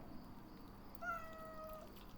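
A single faint, drawn-out cat meow from a little distance, lasting under a second amid quiet background noise.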